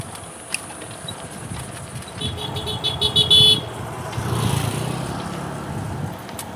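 Slow road traffic around a tempo goods vehicle crawling along, heard from a cycle: a steady engine and road rumble, with a short cluster of horn toots midway and a louder vehicle swell after.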